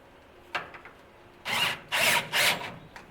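A power drill whirs in three short, loud bursts one after another, preceded by a few faint clicks and knocks from handling tools nearby.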